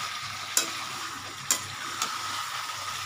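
Chicken kosha being stirred in a frying pan, a steady sizzle broken by three sharp scrapes of the spoon against the pan, close and alone.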